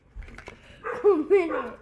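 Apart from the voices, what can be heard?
dog barking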